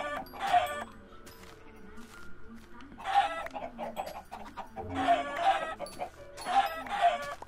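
Chickens in the Minecraft Xbox 360 game cluck in short repeated bursts of several notes, sounding clearly and close over quiet game background, with a little speech now and then.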